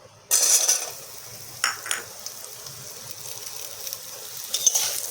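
Potatoes frying in oil over a tempering of bay leaf and dried chilli, a steady close sizzle that jumps loudly as they hit the pan, with occasional stirring scrapes and utensil clinks.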